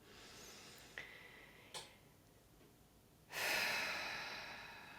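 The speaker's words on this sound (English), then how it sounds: "you might just take a nice deep breath" A slow, deep breath taken close to the microphone, a soft inhale followed by a long, airy exhale in an otherwise quiet room.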